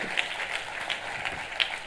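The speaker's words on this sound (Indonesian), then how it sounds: "Kita kasih tepuk tangannya yang meriah buat Tuhan" Congregation at a church service applauding for God, a steady wash of clapping hands throughout with a few sharper claps standing out, fairly loud and without talk.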